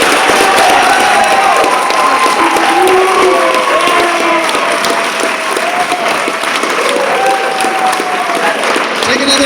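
A theatre audience at a hypnotist's show breaks into loud, sustained applause with cheering voices mixed in, a dense wash of clapping that holds steady throughout.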